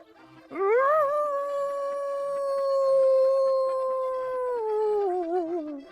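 A single dog lets out one long, loud howl that rises, holds steady for several seconds and then wavers and trails off, heard alone with no talking or barking.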